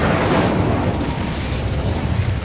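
A fire spell cast in the video game Hogwarts Legacy roars as a loud, continuous burst of whooshing, crackling flame that fills the whole moment without pause.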